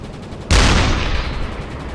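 A single loud gunshot blast from the naval game Uboat bursts in sharply, then rings out in a long rumbling decay across the rest of the moment, with no voices over it.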